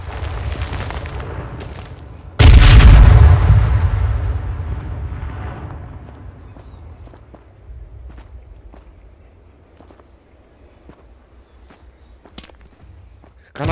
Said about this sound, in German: Granate rechts!